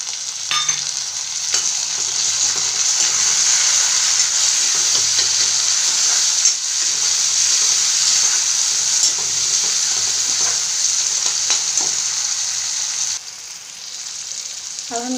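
Chopped tomato frying in a pan with browned onion for a drumstick-leaf curry, a loud, continuous hiss of sizzling oil with faint stirring clicks throughout, no one talking.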